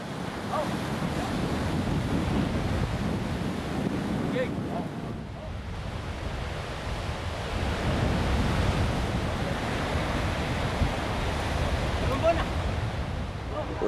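Strong south wind roars over a rough sea, with waves surging and breaking in a steady, dense wash that barely lets up, carrying heavy wind buffeting on the microphone throughout.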